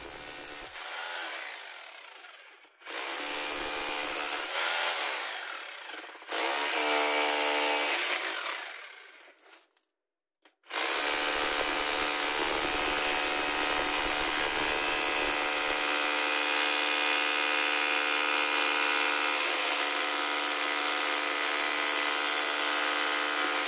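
A Bavaria 230V corded hammer drill bores into very hard concrete, loud grinding bursts broken by short pauses, then one long continuous run close to the mic.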